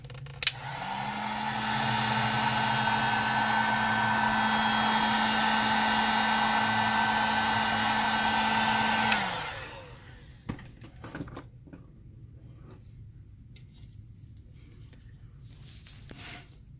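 A hot air tool warming resin for a sand beach painting starts with a click and blows a loud, steady whirring hiss close by for about nine seconds. It then shuts off, leaving faint handling noises.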